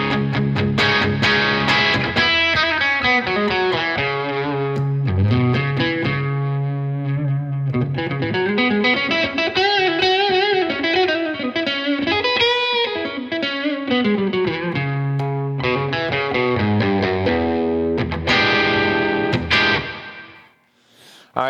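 An electric guitar with humbucker pickup plays a long, sustained melodic passage with a thick, slightly driven tone, ringing out and fading at the end; no talking.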